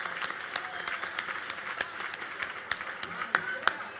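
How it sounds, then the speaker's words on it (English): An audience at an annual charity benefit dinner claps for standing committee members, a steady dense patter of many hands with sharper individual claps popping through, moderately near and without talk over it. "a round of applause."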